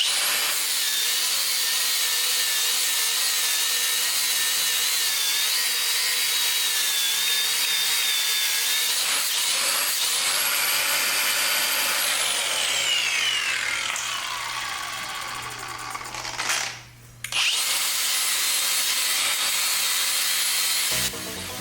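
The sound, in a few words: 4-inch grinder with knotted wire wheel cleaning hub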